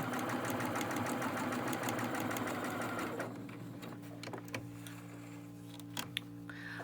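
A sewing machine runs in a fast, steady mechanical rattle for a few seconds, then stops, leaving scattered clicks and a faint hum.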